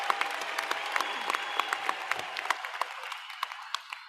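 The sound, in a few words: graduation audience applauding families and friends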